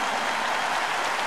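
Festival crowd applauding José Luis Perales at Viña del Mar 2012, a dense, steady wash of clapping from a large audience, loud and unbroken over a brief moment.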